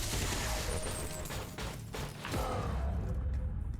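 Gunfire crackles through a tactical battle in XCOM 2, a busy stretch of overlapping shots and thuds with mechanical clatter, fairly faint and continuous.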